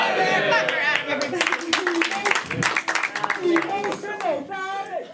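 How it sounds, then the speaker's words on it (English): An audience claps for a contestant named Adam on a game show, scattered sharp claps that build into brief applause while a host talks over them loudly. "Clap for Adam"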